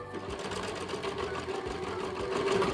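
A serger sewing machine runs with its cutter disengaged, giving a brief, steady, fast mechanical hum of stitching, close and moderately loud.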